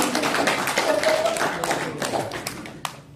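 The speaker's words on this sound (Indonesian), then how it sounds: "Tepuk tangan satu-satu." An audience claps at an Indonesian business gathering, brief scattered hand claps and taps spread over a few seconds, mixed with voices speaking.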